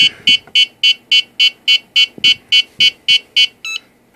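An RC drone's power-on buzzer, a WLtoys V686G, sounds a rapid series of about a dozen evenly spaced, harsh beeps, close and loud, ending with a shorter final chirp.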